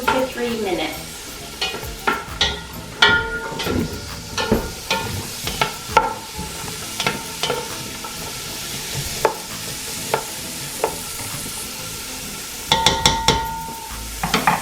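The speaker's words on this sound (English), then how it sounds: "A cup of onions chopped up. I use Vidalia onions or Spanish onions because they're sweet. They don't make you cry so much. You're going to saute this for 2 to 3 minutes." Chopped sweet Vidalia or Spanish onions saute in a pan, with a continuous sizzle under frequent sharp spoon stirs and scrapes, loud and close, with no one speaking.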